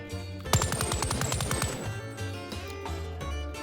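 An AK-74U fires a rapid, evenly spaced automatic burst lasting about a second in a VR video game, followed by quieter mechanical clatter and ringing tones.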